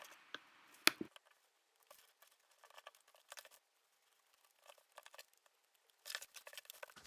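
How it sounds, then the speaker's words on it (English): Scissors trim excess batting from the outer part of a sewn book bag, giving sparse, quiet snips and soft rustling, with one sharper click near the start. "I trimmed off the excess batten from the outer part of the bag."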